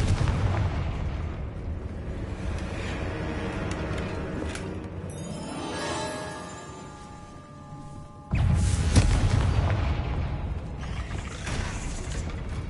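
Explosion spell cast in a video game, heavy booming blasts and rumbling debris with a sudden loud burst near the end, set against a steady game background, no speech.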